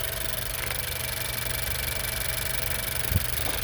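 A 2019 Honda Civic Hatchback Sport with a 6-speed manual idles steadily, a smooth low hum heard close, with one faint knock near the end and no voices.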